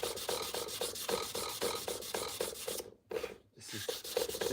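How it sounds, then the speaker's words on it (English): Steady back-and-forth strokes of hand sanding on a custom knife blade, rhythmic rasping rubs close up, with a short pause before the strokes resume. "This is like the most time-consuming part of the knife is this hand sanding."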